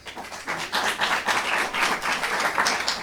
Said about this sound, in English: Clap if you into scary movies.